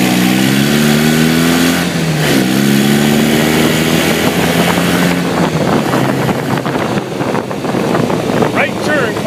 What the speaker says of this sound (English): the buggy is cold, so warm it up